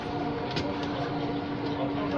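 Inside a moving metro train, a steady dense rumble and rolling hum fills the cabin, with a faint voice speaking under the constant noise.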